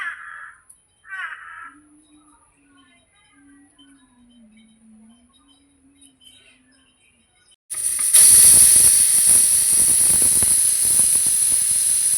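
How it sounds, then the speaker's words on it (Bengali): A pressure cooker cooking dal lets out a sudden loud, steady, high-pitched hissing whistle that runs to the end, after a quiet stretch with a few faint bird caws in the background. "প্রেশারে ডালটা আমি চারটে সিটি দিয়ে নিয়েছি"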